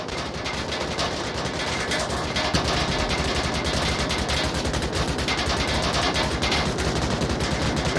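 Sustained automatic gunfire in the VR shooter Onward during a competitive match round, dense rapid bursts of shots filling the whole stretch at steady loud level with no pauses.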